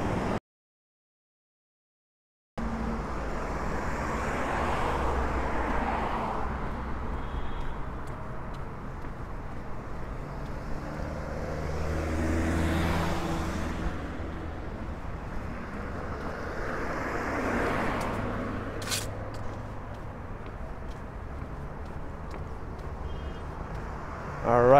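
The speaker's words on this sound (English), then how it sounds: "So that seems to be the highway over there" Distant highway traffic in a quiet Los Angeles neighborhood near Silver Lake Boulevard makes a broad, steady roar that swells and fades as vehicles pass, with wind on the microphone; it begins after a brief silent gap.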